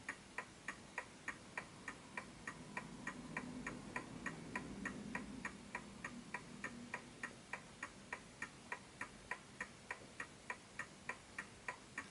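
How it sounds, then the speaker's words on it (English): Smiths Enfield oak pendulum mantel clock ticking in a steady, even rhythm, each crisp tick close and clear over a faint low hum, with no voices. "it's a healthy tick"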